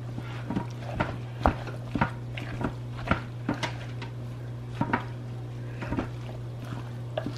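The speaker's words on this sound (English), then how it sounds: "I'm going to kind of stir this up" A spoon stirs chili in a pot with soft, wet squishes and regular light taps about twice a second, over a steady low hum. The sounds are close and no one speaks.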